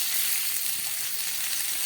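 Peanuts fry in ghee with semolina for halwa, a steady close hiss of frying that runs evenly throughout, with no talk.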